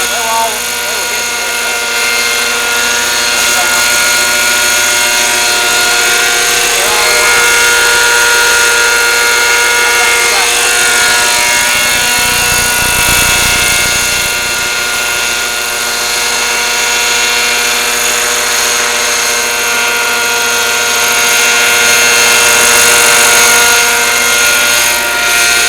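A model helicopter flies nearby, giving a loud, continuous whine with a steady rotor drone for the whole stretch. Voices can be heard faintly at times.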